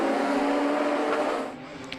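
A Radical race car on the Donington GP circuit sweeps past with a loud, high engine roar that fades away as it moves off, with no speech over it.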